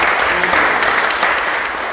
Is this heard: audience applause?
yes